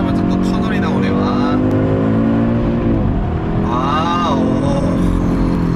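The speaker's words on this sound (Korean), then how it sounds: "배기음을 제대로 지를 수 있습니다" An Audi RS3 accelerates hard through a tunnel, its exhaust roaring loud and close as the revs climb and shift in sweeping tones, with a brief exclamation from a voice inside the car.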